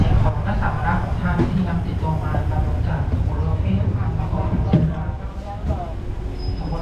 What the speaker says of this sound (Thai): รถไฟมาแล้วหาทุกคน เราไปขึ้นรถไฟกันได้